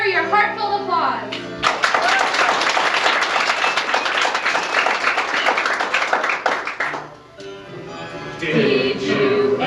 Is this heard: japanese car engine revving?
no